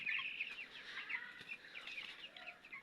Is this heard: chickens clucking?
yes